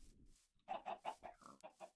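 Chickens cluck in a Minecraft-style video game, a quick run of five or six clear, close clucks after a short quiet start, with no talking.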